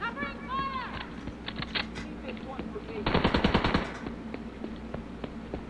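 Rapid automatic gunfire in The Division 2 video game, a tight burst of shots in the middle of the clip, set among game sound effects and a voice calling out.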